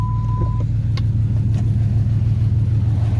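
A 2013 Dodge Challenger R/T with long tube headers rumbles at a steady, loud idle during a cold start, a deep low throb held for the whole stretch with a brief beep near the start.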